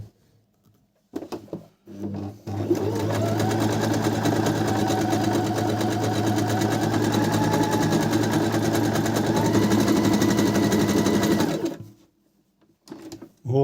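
A freshly serviced sewing machine runs a zigzag stitch at maximum width with thread tension eased, giving a steady, loud mechanical whirr with a rhythmic needle chatter that starts after a brief pause and holds for about nine seconds before stopping.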